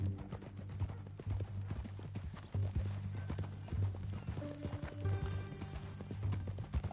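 Horse hooves clip-clop steadily at a walking pace in Red Dead Redemption 2, a regular rhythm of loud, close hoofbeats running through the whole stretch over a low ambient backdrop, with a brief whinny-like tone near the end.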